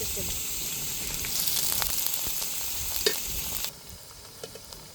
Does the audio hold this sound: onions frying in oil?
yes